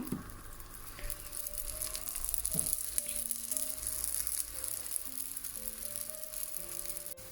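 Kundu dosa frying in oil in a pan, Jaffna style, giving a steady close sizzle with faint scraping and rattling throughout, alongside a sustained tonal background hum.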